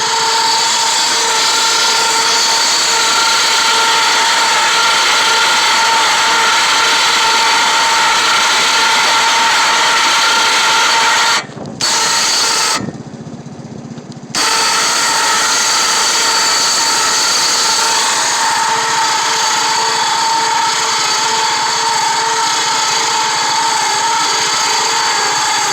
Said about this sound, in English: These are pretty loud, but for the most part it seems to be doing what I want it to do.